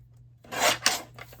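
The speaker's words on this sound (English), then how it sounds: "So I think I'm going to bring in my trimmer, and we'll just cut some of that away." A paper trimmer slices through a stamped cardstock panel, giving one short rasping cut close up in a quiet room.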